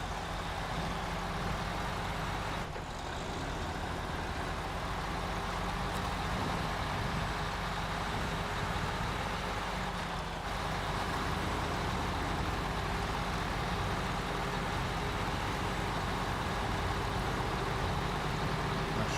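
A heavy truck engine drives steadily in the SnowRunner video game, a constant loud low rumble with no pauses and only slight shifts in load throughout.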